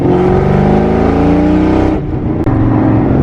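A boosted Ford Mustang GT engine revs hard and close with a misfire, its loud sustained roar easing briefly around two seconds in, then a sharp break before it picks back up.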